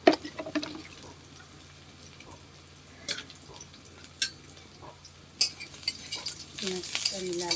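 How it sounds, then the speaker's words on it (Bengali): Onions sizzle quietly in a pan while a utensil stirs and scrapes, with occasional metallic clinks and a louder burst of frying near the end. "ভাজছি এখন ভাজতে থাকবো যতক্ষণ না পেঁয়াজটা লাল হয়ে ভাজা হবে"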